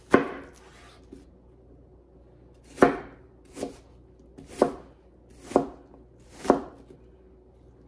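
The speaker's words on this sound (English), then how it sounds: "Now, I'm gonna cut this here onion, and I hope I don't cry" A knife chops through an onion on a cutting board for Mexican picadillo. After a quieter start, five separate, evenly spaced chops ring out up close against a soft room background, with no one speaking.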